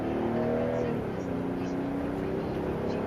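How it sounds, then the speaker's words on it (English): A BMW E90 sedan on Continental DWS 06 tires accelerates, with a steady rising engine drone and road roar heard from inside the cabin, moderately loud and continuous. "I'm gonna do the acceleration real quick. So you guys hear that engine?"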